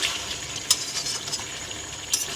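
Chicken for pulao is sautéed and stirred in a pan, with a soft sizzle marked by two sharp spatula scrapes against the metal.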